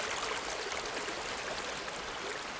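A river flows steadily through a restored landscape of regrown vegetation, a dense, even rush of water holding the same level throughout with no pauses and no voices.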